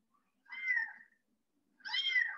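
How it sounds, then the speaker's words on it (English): A kitten meows twice, each meow short and fairly close, separated by about a second of near silence, with no talk or background noise. "Did you guys guess kitten?"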